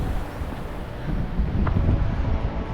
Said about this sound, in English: It is windy, it is cold, it is beautiful.